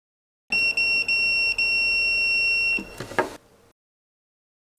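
A PAN Allrounder 200AD current and voltage tester sounds its continuity beep, a loud steady electronic tone interrupted by a few brief gaps, then a short clatter before the clip falls silent.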